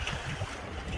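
A sailboat's sail flaps and luffs in rough, gusty wind on choppy water, a brief blustery rush of wind buffeting close to the microphone.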